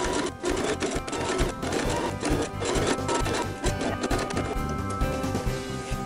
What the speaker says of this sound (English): we're going to sew the other side as well in 1/4-inch seam allowance